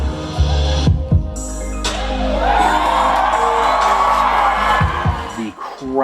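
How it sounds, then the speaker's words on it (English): A convention crowd whoops and cheers loudly for fursuit dancers, a sustained roar of shouts and applause swelling over throbbing dance music. "The crowd gave us a near standing ovation, and I could not hear anything over the cheers."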